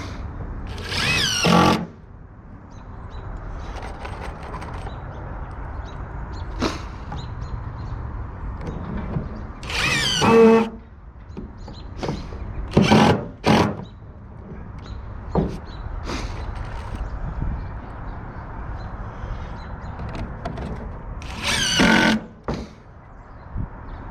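A power drill bores starter holes in wood boards for truck ramps in several short, loud bursts separated by pauses, over a quieter background.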